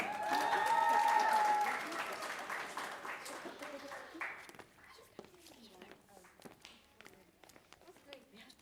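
Applause for student speakers at a primary school speech contest, fairly loud at first, then thinning into scattered claps and shuffling footsteps after about two seconds, with faint voices in the room.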